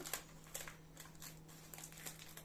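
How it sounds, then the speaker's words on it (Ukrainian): Plastic bags are pulled over potted heuchera plants and wound with sticky tape, giving faint, close crinkling with sharp little tape rips and rustles in irregular bursts over a low steady hum, with no voices. "Скотчем я їх замотую."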